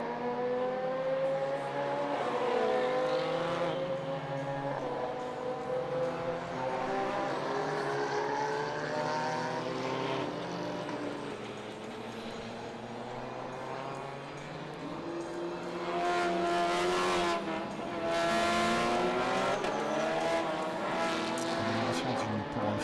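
A BMW M4 GT4 race car runs at Spa-Francorchamps during SuperCar Challenge qualifying, its loud engine note climbing and falling in pitch as it shifts and passes, with a second surge of engine sound late on.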